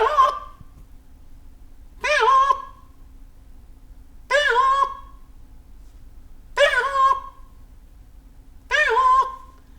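A man mimics a peacock's alarm call with his voice, giving five loud, harsh, honking cries spaced about two seconds apart against a quiet background.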